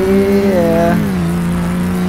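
In Car Mechanic Simulator, a Porsche 911 Turbo engine revs up and then drops back, its loud, steady tone rising and falling close by with no talk over it.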